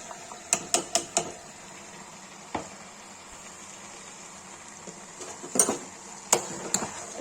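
A spoon clinks and scrapes against a pan while tomatoes are stirred into a potato-and-pea curry, giving a cluster of quick metallic taps, then scattered sharper knocks over a quiet sizzle with no talking.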